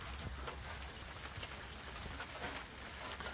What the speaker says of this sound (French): Donc là il pleut, pas beaucoup, mais il pleut.